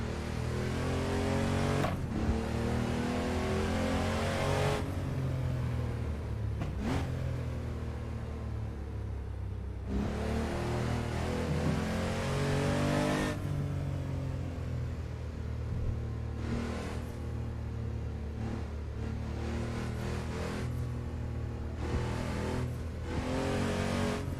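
A mid-1990s Porsche race car engine in the Assetto Corsa racing game, droning loudly and steadily with repeated rises in revs and sudden drops at gear changes, alone without voices.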